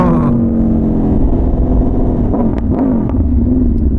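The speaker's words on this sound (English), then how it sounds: "check out this downshift" An Aprilia RSV4 1100 motorcycle engine drones steadily at high revs, then blips and crackles through a quick downshift near the end, loud and close with wind roar throughout.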